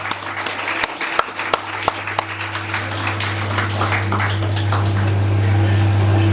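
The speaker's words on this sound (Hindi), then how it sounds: "प्लीज जोरदार तालियां बजाइए।" Applause from an audience at a regional selection competition prize ceremony, starting as scattered individual claps and swelling into steady, dense clapping over a low constant hum.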